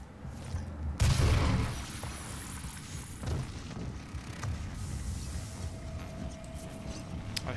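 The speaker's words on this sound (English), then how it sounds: "I hear BFG bullets." Heavy booming bursts and a rumbling roar of weapon fire in DOOM, a loud blast at the start, then sustained low crashing and scattered impacts.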